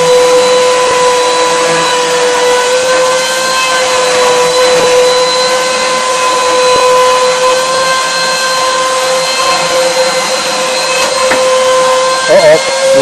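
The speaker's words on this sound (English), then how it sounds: "Programmed to do 5 passes to cut out each wheel, and leaving tabs, support tabs, so the wheel doesn't fly away." A CNC router cutting out a wheel in five passes, leaving support tabs, gives a loud, steady machine whine with a sustained tone that runs the whole time, with a small rattle near the end.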